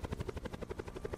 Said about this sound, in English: it's so hard to hear over the helicopter.